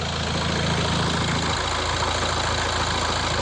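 A Hyundai Santa Fe engine idles steadily close by, a constant rumbling drone, with a low knocking chug at the start that drops away partway through.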